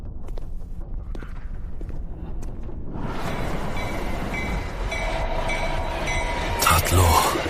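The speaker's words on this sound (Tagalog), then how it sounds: "May tren na dadaan dito." A train rolls past, starting as a low rumble and swelling after a few seconds into a loud, broadband clatter and roar, with sharp metallic squeals near the end; a voice is faintly present.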